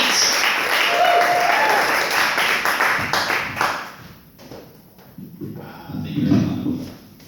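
Standup comedy audience in a small club cheering and applauding loudly for a comedian, a dense burst of clapping that fades after a few seconds into scattered claps and crowd murmur.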